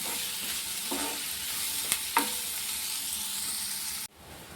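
Chopped onions with salt fry in a pan with a soft steady sizzle, broken by a few brief scraping stirs of a spoon against the pan before the sound cuts off abruptly.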